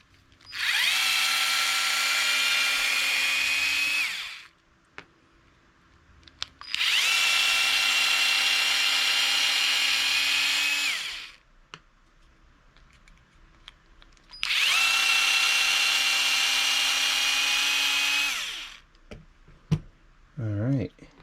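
A power drill whirs loudly and steadily in three long bursts of about four seconds each while removing screws from a Traxxas Maxx RC car, with quiet pauses and small clicks between.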